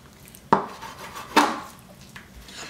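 Knife slicing through cedar plank smoked salmon, two distinct sharp cuts against a board with a fainter third tap, close and fairly quiet with no talk.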